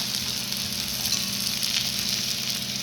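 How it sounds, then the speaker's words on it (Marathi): A methi thalipeeth, a fenugreek flatbread, roasts on a hot pan with a steady, close, even sizzle and no pause or voice. "लगेचच थालपीठ आपल्याला याच्यावरती शेकायला ठेवून द्यायचे"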